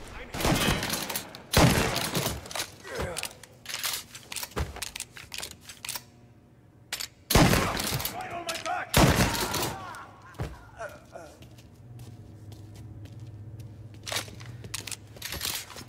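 Gunfire from henchmen in the Mafia video game, several loud broadband bursts and scattered shots spread across the scene, with quieter gaps between volleys and background game sounds.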